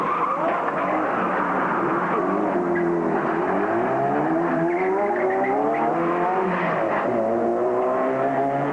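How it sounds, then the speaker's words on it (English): Speeding drift car skidding through a turn, tires squealing in long rising and falling wails over a steady engine roar, loud and continuous throughout, with no talking. "One slip can cause a speeding car to seriously sideswipe a spectator."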